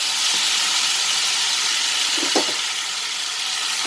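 Tomatoes hitting crackling hot oil in a pan while cooking a bitter gourd and onion sabji, a loud continuous steamy hiss with a few faint pops and no voices.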